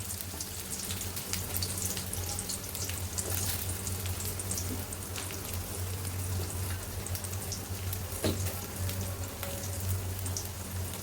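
Chopped onion and green chili frying in hot oil in a wok, giving a soft, even crackling hiss over a low steady hum, continuous and fairly quiet throughout with no talking.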